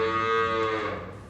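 A cow lets out one long, loud moo close by, rich and droning, fading slightly at the end. The cattle are on a Northern Ireland farm, kept indoors by persistent wet weather.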